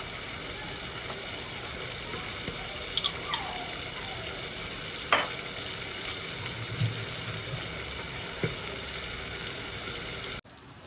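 Chicken frying in a pan on a gas stove for homemade chilli chicken, a steady sizzle with a few sharp crackles and clicks, cutting off abruptly at the end.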